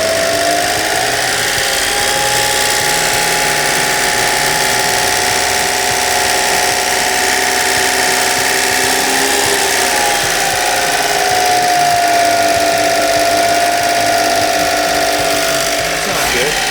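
A 1992 Honda micro bus engine runs steadily at idle, a loud, close mechanical drone that holds constant throughout with a slight rise in pitch near the middle.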